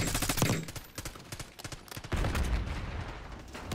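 Rapid bursts of gunfire in Black Ops 6 as a player shoots down an enemy UAV, loud overlapping shots crackling through the clip with in-game effects behind them.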